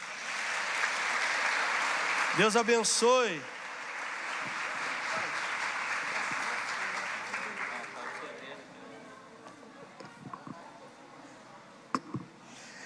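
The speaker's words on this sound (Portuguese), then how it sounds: "Salva de palmas" Congregation applauding during a Sunday evening church service, a broad steady clapping wash that lasts most of the clip and fades toward the end, with someone speaking over it.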